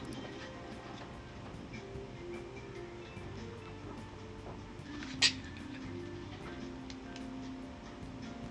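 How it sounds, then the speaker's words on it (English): Train ride in the video game Persona 5 Royal, a steady low rumble of rolling rail cars with one short sharp clack partway through, quiet and continuous. "I need to take the train to school."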